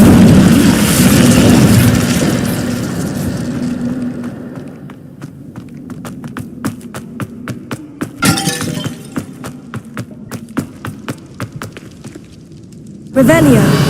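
Loud Incendio fire spell blast in Hogwarts Legacy, a burst of roaring whoosh and crackle at the start, followed by scattered sharp cracks and crunches, then another blast at the end, with a voice speaking over parts of it.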